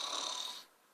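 A short, breathy snore-like rasp from a nearby voice, imitating snoring, fading out after about half a second.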